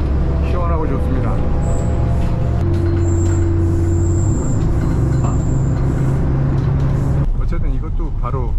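A city bus engine in Turkey drones loudly from inside, with steady low rumble and whining tones shifting as it accelerates, and a voice talking over the noise.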